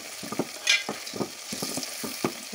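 Onions and green chillies fry quietly in a pan while being stirred, giving soft sizzling and a few light scrapes and taps in a brief stretch without talk.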